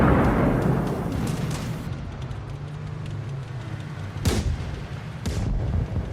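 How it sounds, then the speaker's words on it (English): Tank ammunition detonates in a deep, rumbling roar, followed by two sharp cracking blasts amid continuous low rumble and crackle. "At first, smoke, then sparks, then everything detonates."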